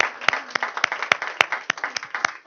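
Church congregation applause, a steady close clapping with a few louder individual claps standing out in a regular beat and a faint voice underneath.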